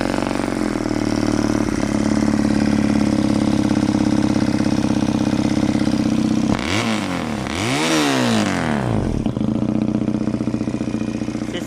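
A Bajaj Pulsar-type MR 250 Destro motorcycle idles with a steady loud thrum, briefly cuts out, then the starter catches and the engine swings up through a couple of rising and falling revs before settling back into a close, even idle.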